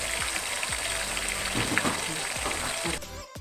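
Steady oily sizzling of a ground paste frying in a pan for meat pathiri, with repeated scraping knocks of a spoon stirring through it; no voices.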